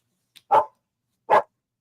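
A dog barks twice indoors, two short, loud, sharp woofs about a second apart, close by in an otherwise quiet room.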